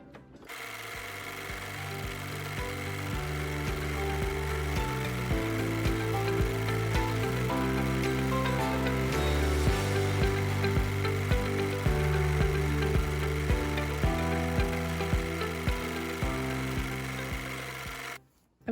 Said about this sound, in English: I'm really happy with how that free motion stitching came out